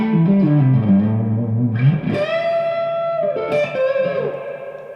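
Electric guitar played through a drive pedal into a bright amp, with moderate distortion: a low riff that slides upward, then sustained ringing chords, loud and alone, fading at the end.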